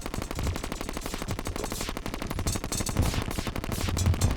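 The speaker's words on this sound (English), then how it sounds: "there was so many probes shooting me at once" Rapid gunfire from Destroyer probes in Terraria, a dense, continuous stream of overlapping shots with chaotic layered impacts throughout, loud and busy with no voices.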